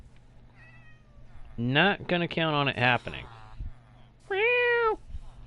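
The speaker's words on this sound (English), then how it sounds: "Silly cats." Minecraft cats let out several loud, close meows, a burst of quick overlapping cries followed by one longer drawn-out meow, with someone speaking briefly beforehand.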